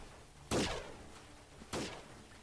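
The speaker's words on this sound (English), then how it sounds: "There's gunfire everywhere." Two sharp gunshot bursts ring out in the guerrilla warfare video game Freeman: Guerrilla Warfare, each a loud crack followed by a short decaying tail, spaced about a second apart over a quiet background.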